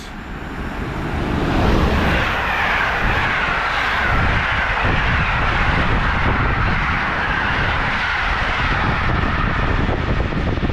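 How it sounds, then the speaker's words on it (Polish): A Griffin locomotive hauling a PKP Intercity train rushes past at high speed at Warszawa Toruńska, a loud, sustained roar that swells within two seconds and stays strong throughout. "przelot Griffina ze składem PKP Intercity, ale prędkość."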